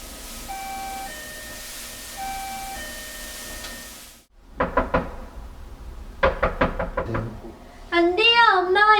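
Sharp knocking on a house door by a stranger, several separate bursts of raps after a quiet gap, heard fairly close beside a voice and soft background music.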